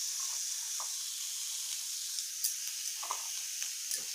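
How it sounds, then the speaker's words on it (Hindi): Cut potatoes fry in masala and oil in a pan, giving a soft, steady sizzle and hiss with a few faint crackles and light stirring taps. "मसाला के साथ ही फ्राई होगा।"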